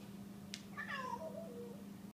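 A single cat gives one drawn-out meow that slides downward in pitch, fairly close but soft, over a steady low electrical hum.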